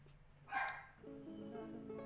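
A dog gives a short excited bark close by, then a tuneful background of music carries on steadily after it.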